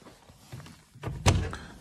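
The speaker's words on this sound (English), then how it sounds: "And then a door opening" A door in a house opens into an ensuite shower room with a soft thunk and a brief knocking bump, close by and quiet, with no talking.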